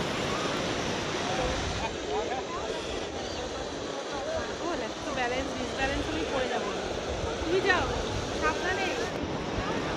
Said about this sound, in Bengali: খাসারা ফলসের জলগুলো বয়ে যাচ্ছে